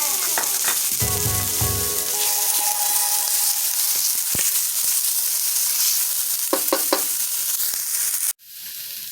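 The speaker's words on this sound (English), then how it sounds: "your minced garlic, also your ginger, and we're going to saute that" Minced garlic and ginger sizzle steadily in a hot pan for chicken fried rice, a continuous loud frying hiss with a few scraping stirs, cut off abruptly near the end.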